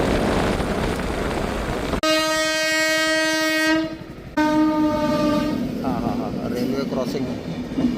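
A train passes a railway crossing on a partly concreted road near the Darna dam, its horn blaring in long harmonic blasts over the rolling rumble and clatter of the cars, loud and close, with a brief pause between horn blasts.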